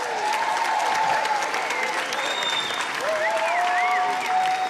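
Studio audience applause at a relationships podcast taping rises as a dense, sustained wash of many hands clapping, with faint tonal music-like lines running underneath.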